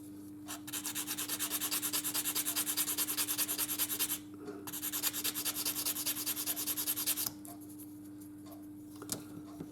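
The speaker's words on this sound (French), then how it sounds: "une petite éponge pour atténuer les marques de lime" Close, steady rhythmic rubbing of a sanding sponge smoothing file marks on a 1941 Ford Woody 1/25 AMT model car body, running in a long continuous stretch, pausing briefly, then resuming before stopping near the end.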